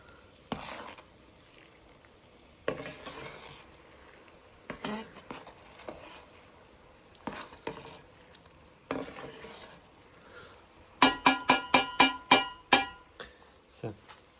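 BeeWorld beeswax foundation melting and boiling in a pot gives off a soft bubbling and sizzling, with occasional stirring scrapes and, near the end, a run of sharp metallic clinks.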